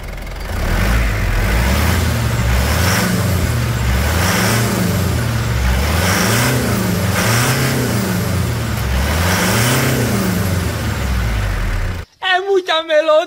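A Mitsubishi Pajero Full with a 3.2 engine revs loudly and close up in repeated rising and falling surges for about twelve seconds, then a person speaks at the very end.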